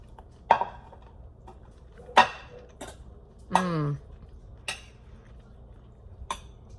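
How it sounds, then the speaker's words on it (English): A fork clinks and scrapes against a plate of shrimp pasta in sauce, several sharp separate metallic taps spaced a second or so apart with one longer scrape, close and clear over a quiet room. "I'm going to get a little bit of the pasta sauce and the shrimp on one fork"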